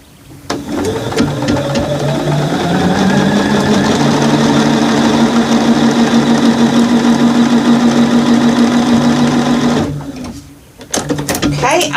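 A sewing machine runs steadily for about nine seconds, stitching quilt fabric for an autumn table runner, its motor whirring and rising slightly in pitch, close and loud, before stopping and giving way to a few handling clicks.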